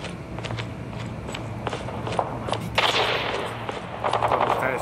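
Sniper rifle gunshots in a video game, sharp cracks ringing out irregularly amid a busy battlefield with footsteps and scattered gunfire, some shots near and louder, others more distant.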